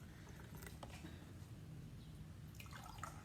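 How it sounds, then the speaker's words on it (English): Water poured into drinking glasses to fill them about two-thirds, heard as faint splashing and trickling in a few short bursts over a quiet background. "I'm just going to fill all my glasses about 2/3 of the way with water."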